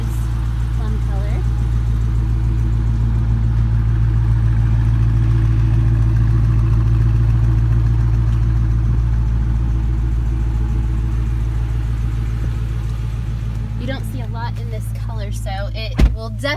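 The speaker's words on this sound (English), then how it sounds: "I started it up for you so you could hear that engine." A Dodge Challenger's 5.7-liter V8 Hemi idles steadily and close by with a deep, even rumble, with a brief clunk near the end as the engine note continues.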